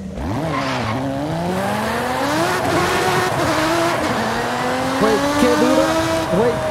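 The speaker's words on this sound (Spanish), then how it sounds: "Eso suena un poquito más, pero ya suena muy bien el coche" A loud tuned race car engine in a video game revs and shifts through gears with rising and falling pitch, tires squealing briefly, with talking underneath.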